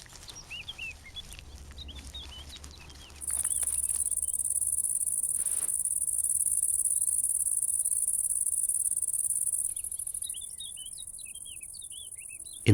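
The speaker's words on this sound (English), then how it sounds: "The bush cricket's green camouflage doesn't help her." A bush cricket chirps in a wheatfield, a loud continuous high-pitched buzzing trill that sets in and holds for several seconds before fading, with scattered bird chirps around it outdoors.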